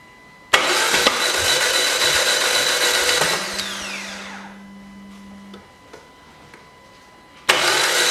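A 2005 Peugeot 407 1.8 engine with a broken timing belt cranks loudly, catches briefly with a falling whine, then idles rough and low before cutting off; another burst of cranking starts at the end.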